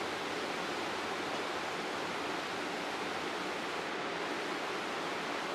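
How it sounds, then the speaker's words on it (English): The Animas River rushes past below a hotel balcony in Durango, a steady, even roar of flowing water with no voices, constant and moderately distant. "This is the Los Animas River."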